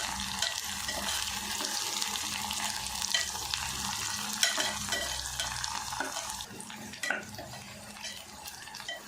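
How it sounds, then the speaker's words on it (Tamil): Steady sizzling of onions sautéing in a pan for chicken gravy, with occasional scrapes and clinks of stirring, fairly close and continuous without speech. "வெங்காயம் பாருங்க இந்த அளவுக்கு வதங்கி வரும்போது"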